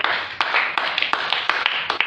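Congregation at a church prayer service clapping for Jesus, a dense, steady patter of many hands with sharper accented claps every fraction of a second, loud and close, no talk.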